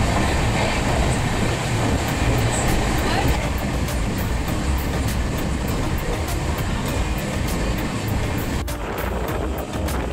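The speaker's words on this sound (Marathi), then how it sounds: "आवाज येतोय ना मध्ये मध्ये, दुसरी ट्रेन वगैरे येते" Steady rumbling of an Indian Railways passenger train in the Konkan region, with rhythmic wheel clatter, loud and continuous throughout, like riding aboard.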